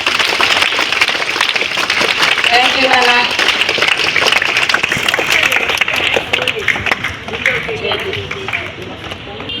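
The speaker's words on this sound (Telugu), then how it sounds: "గట్టిగా క్లాప్స్ కొడదాం సాయి విఘ్నందరికి" An audience at a meditation gathering applauds in a steady, dense wash of clapping, and a voice speaks briefly over it.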